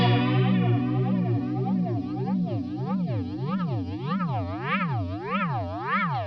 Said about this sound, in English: You can hear there it's just going into self-oscillation.